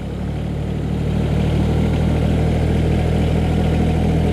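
A Branson 1905h 19 HP sub-compact tractor engine runs at a steady idle, loud and close, with a constant low rumble and no change in pitch and no talking.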